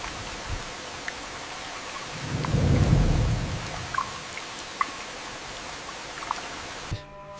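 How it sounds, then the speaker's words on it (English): Rain shower with thunder, a steady wash of falling rain with a deep rumbling roll of thunder swelling in the middle and scattered drips, no voices. "A rain shower on the colony"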